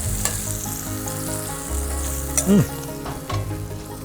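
Onions and garlic frying in a pan for menudo, a continuous close sizzle with occasional stirring clinks and a brief thump partway through; no one speaks.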